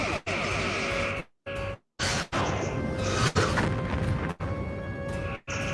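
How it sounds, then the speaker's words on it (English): Booming motion picture torpedo effects fire in a space battle, a run of loud, dense blasts and crashes broken by brief silent gaps, one after another with no voices. "I loved using the motion picture torpedo sound."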